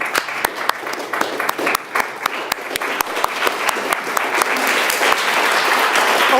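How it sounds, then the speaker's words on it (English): A live audience at a main stage show claps to welcome performers out, a dense, close burst of applause that swells steadily louder and fuller. "we applaud to bring our performers out"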